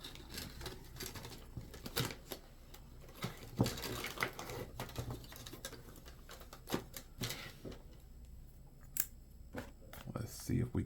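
Someone cuts open a phone case package with a knife, making scattered sharp snips, scrapes and crinkles up close at a quiet level, with a person talking in between.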